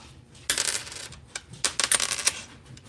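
A zinc penny drops onto a table, hitting it with a sharp strike and then rattling and bouncing in a quick run of dull clinks that settle down. The sound is close and clear.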